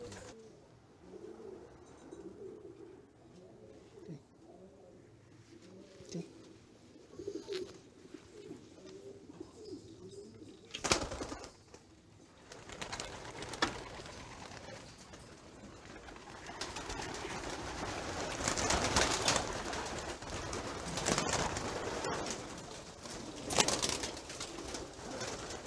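Racing pigeons coo steadily in a loft, soft repeated throaty calls close by, with rustling and flapping bursts building in the second half.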